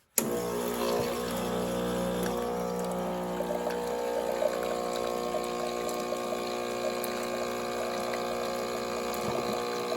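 Casabrews portable 2-in-1 coffee maker on its hot setting brewing a K-Cup: a steady pump hum with gurgling, hissing water flow that starts abruptly and runs continuously at moderate loudness, close by.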